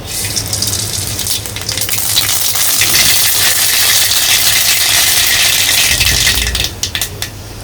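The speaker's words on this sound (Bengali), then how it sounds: "তেলটা গরম হয়ে গেছে এখন সরিষা দিয়ে দিই" Mustard seeds hit hot oil in a village-style home kitchen, setting off a loud, continuous hissing sizzle with crackling spatter close by that holds steady before easing slightly near the end.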